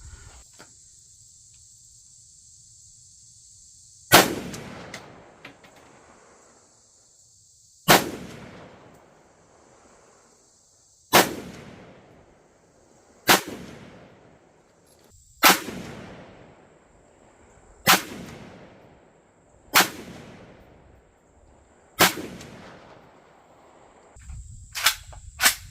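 Sharp gunshots from a Romanian MD63 rifle crack out one at a time at a steady outdoor range, about eight loud reports spaced a couple of seconds apart, each trailing off in a short echo, with insects chirping faintly behind.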